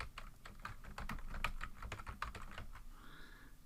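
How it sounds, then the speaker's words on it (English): Computer keyboard typing with a run of close, crisp key clicks in quick irregular rhythm, a few louder presses standing out, then a short pause near the end; no talking. "hit the tab button to move over"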